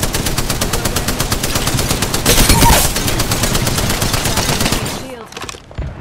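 Rapid automatic gunfire in the shooter game Apex Legends, a loud dense stream of shots lasting several seconds with a brief heavier burst midway, then thinning out to scattered sounds at the end.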